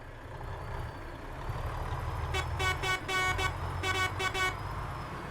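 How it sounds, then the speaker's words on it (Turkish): A Renault Range T Evo truck horn blares in a driving video game, several repeated honks in two groups of loud toots over a steady engine drone. "Aracın korna sesi falan gerçekten güzel."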